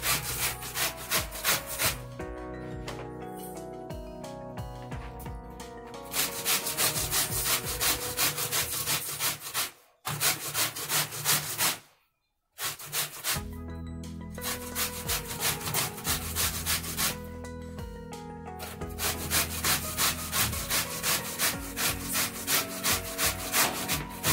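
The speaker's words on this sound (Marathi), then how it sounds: "किसणीच्या साहाय्याने कैरीचा बारीक असा किस करून घ्यायचा आहे" Raw mango being grated on a hand grater makes rapid, rhythmic scraping strokes, close and continuous, broken by two brief pauses midway before the steady rasping resumes.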